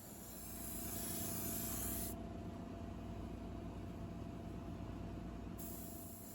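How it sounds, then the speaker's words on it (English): Steady, continuous hiss of an airbrush spraying paint on a model kit up close at about three-quarter throttle, rising briefly at the start then holding evenly. "So I'm spraying probably about 3/4 throttle on my airbrush"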